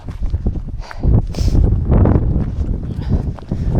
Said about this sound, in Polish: No wiatr straszny